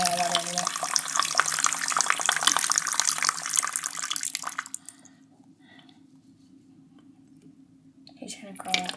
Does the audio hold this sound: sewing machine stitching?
no